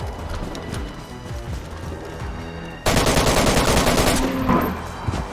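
AK rifle fire in the DayZ video game, a run of rapid close shots that breaks out loud and sharp partway through, following quieter footstep-like knocking in a maze.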